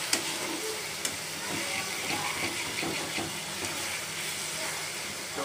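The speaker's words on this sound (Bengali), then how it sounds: "সকল মশলাগুলো হালকা করে ভেজে নিব।" Spices frying lightly in mustard oil for beef biryani, a steady soft sizzle with faint stirring clicks throughout, close and even in level.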